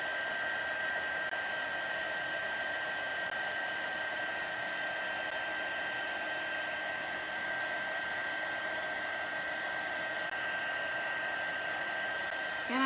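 Heating tool blowing hot air while drying stamped daisy card-making pieces, a steady close whoosh of fan noise running unbroken throughout with no talk.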